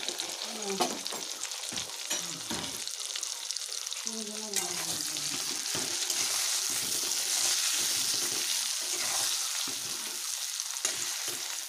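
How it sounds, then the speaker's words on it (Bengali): Diced potatoes fry in a kadai with turmeric, chili, bay leaf, cinnamon and green cardamom, giving a continuous close crackling sizzle with stirring scrapes throughout and a faint voice now and then in the background. "আলু ভেজে দেবো ডুমো ডুমো করে কেটে"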